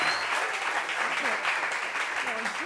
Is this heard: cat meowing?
no